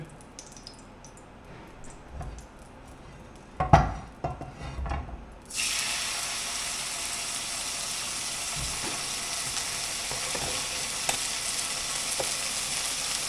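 A quiet stretch with a few soft knocks and clatters, then a steak hits the pan and a loud, steady sizzle fills the rest of the clip.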